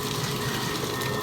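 Water pump discharging a steady gushing flow of water, a short, continuous rushing wash heard fairly close with no talk.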